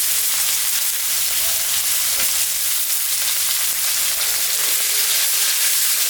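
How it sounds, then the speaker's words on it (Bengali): Onions sizzle and fry steadily in hot mustard-style fish-frying oil with lentil nuggets and five-spice tempering, a continuous close, loud crackling hiss throughout with no talking. "পেঁয়াজটা ভাজা ভাজা হয়ে গেছে"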